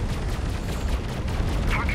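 Spaceship weapons fire continuously in the space combat game Fractured Space, a loud, dense barrage of booming shots with no letup. Voice chat carries on over the gunfire.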